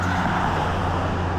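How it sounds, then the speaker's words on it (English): Road traffic rushes past close by on a walk beside the road, a steady loud broadband roar of passing cars with no break. "Sorry for the noise. I'm on our walk and I'm next to the road."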